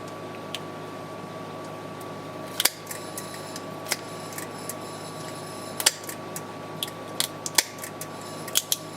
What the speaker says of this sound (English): This one I will try to use a trimmer. See, the silicone is pure enough that you can actually just cut it off like that.